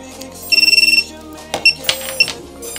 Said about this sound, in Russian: Пищалка громкая.